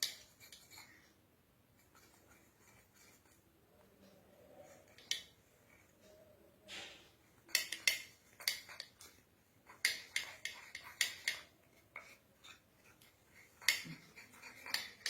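A spoon clinks and scrapes in a bowl while stirring a paste of gram flour, cinnamon powder and honey, quiet and close, with irregular sharp taps growing busier toward the end.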